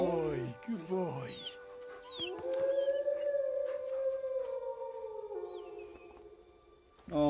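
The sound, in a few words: dog Mutt barking or howling, from video game Kingdom Come Deliverance II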